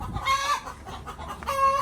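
Backyard chickens in a home garden clucking in two close, loud bursts of squawky calls with a quieter gap between, no talking.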